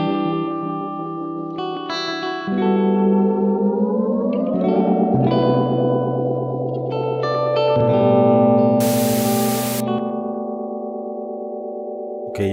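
A software echo plugin set to endless feedback turns sustained synth tones into smeared, repeating layers that slide in pitch and stack up, with a brief hiss burst near the end. The sound is loud and continuous, with no talk.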